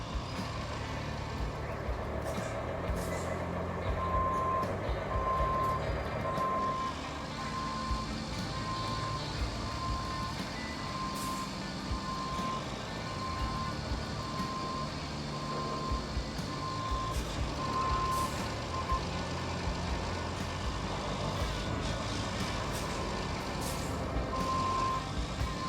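Truck driven in the video game Roadcraft, its engine droning steadily throughout with a repeating reversing beep sounding at regular intervals and occasional air-brake hisses.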